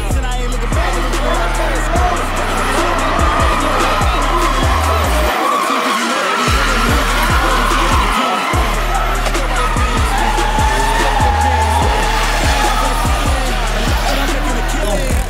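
Drift cars at a Drift Fight competition in Balneário Camboriú, close and loud: engines rev hard in repeated bursts while tires squeal and skid continuously, with brief gaps between pulses and crowd or voices faint beneath.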